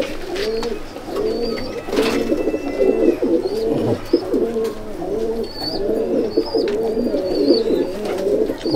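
A red-eyed pigeon in a loft at Sangrampur coos repeatedly in a steady, rolling rhythm, loud and close, with faint chirps from other birds scattered in the background.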